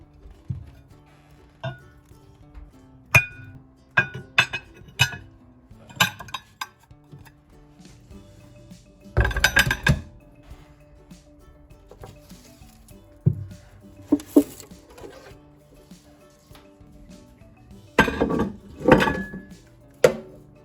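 Hard objects and fabric items are lifted out of a bearded dragon's cage, giving scattered knocks, clunks and light clattering, with a few denser bursts of rattling; no one speaks.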